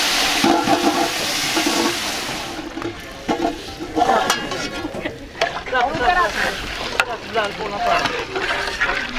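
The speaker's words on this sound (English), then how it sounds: "they just added in some hot water that kind of whooshed, and now back on the fire" Hot water poured into browned semolina halwa on a fire in rural Punjab, Pakistan, giving a loud bubbling, sizzling whoosh that surges and settles over several seconds.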